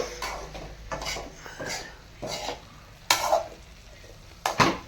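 Paneer, broccoli and mushroom fry in a pan, a low steady sizzle broken by repeated scraping stirs of a spatula, several distinct strokes close up.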